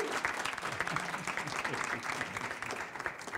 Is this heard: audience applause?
yes